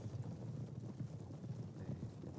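Horse hooves clip-clop in a video game battle, a dense run of muffled hoof thuds under a steady low rumble of game noise.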